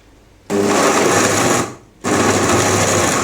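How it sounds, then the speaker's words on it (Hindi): A kitchen blender grinds peaches for juice in two loud, close bursts of whirring motor noise: the first runs about a second, then comes a brief pause, then the second starts. "इसे ग्राइंड करती हूँ फिर मैं आपको दिखाती हूँ।"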